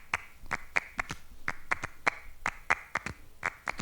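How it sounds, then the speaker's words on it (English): Sharp hand claps repeat in a syncopated clave rhythm, crisp and close, about a dozen evenly recorded hits with small gaps between them and no voices. "Claps in the same rhythm."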